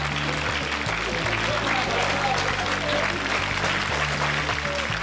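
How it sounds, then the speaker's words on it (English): Audience applause at a live show, a steady wash of clapping through the whole stretch, with a voice talking over it and low tonal background sound underneath. "Nice big round of applause."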